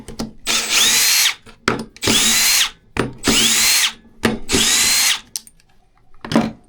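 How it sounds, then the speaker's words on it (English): A Milwaukee SubCompact drill driver on speed 2 drives a screw into sheetrock in four sustained whirring bursts, each followed by short clicks and pauses, close and loud. "The drill, driving speed 2."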